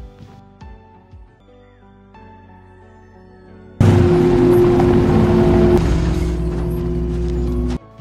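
A car passing by in the horror film The Devil Below, arriving as a sudden loud engine roar that holds for several seconds and then cuts off, following a quiet stretch of tense musical tones.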